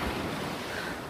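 Ocean waves surge against rocky cliffs along a coastal walk, a broad continuous wash of surf with some wind noise, heard without talking.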